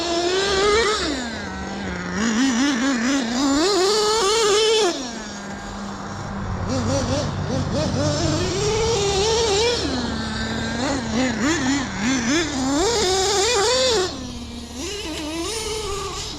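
An XTM Mammoth ST nitro RC car engine screams and revs, its pitch rising and falling repeatedly, loud and near, with a brief drop in level midway and a deeper engine rumble beneath.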